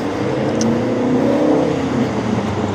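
Cars driving by on a road during quarantine, a steady close whooshing roar of passing traffic with a brief engine rise, continuous throughout with no voices.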